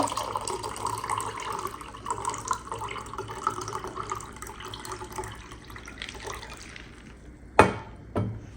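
Water pours steadily from a reeded glass pitcher into a container for several seconds, then stops, followed by two sharp clinks of glass near the end.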